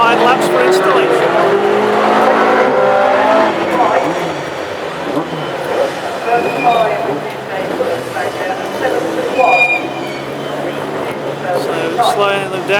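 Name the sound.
classic hot rod race cars doing installation laps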